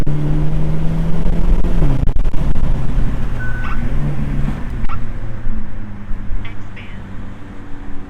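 Hyundai Elantra N on a 0 to 60 run, engine droning loudly in the cabin with a shift dip near two seconds, then pulling on with a steady rising note.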